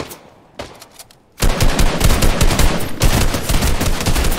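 Rapid bursts of automatic gunfire from the Fortnite video game, starting with a few sparse shots and then turning into a loud, dense, continuous barrage that runs to the end.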